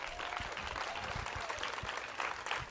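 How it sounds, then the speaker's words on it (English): An audience at a middle school ribbon-cutting ceremony applauds steadily, a dense wash of clapping at moderate distance. "Please give them a big round of applause."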